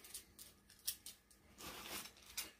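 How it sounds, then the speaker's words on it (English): Small hair scissors snip in a quick, uneven series of faint, crisp metallic cuts heard close up with no talk. "This is a little pair of hair scissors."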